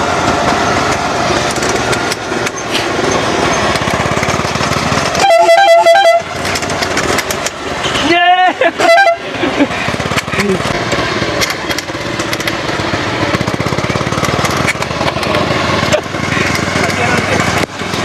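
Homemade car built around a Honda CD70 motorcycle engine, its small single-cylinder motor buzzing steadily throughout, with two short horn blasts midway and people chatting nearby.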